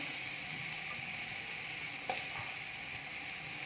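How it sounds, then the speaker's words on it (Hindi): Onions frying in hot ghee, a soft steady sizzle with one brief clink partway through, close but fairly quiet, with no talk. "घी हमारा गर्म हो चुका है, तो अब हम इसमें प्याज ऐड करेंगे।"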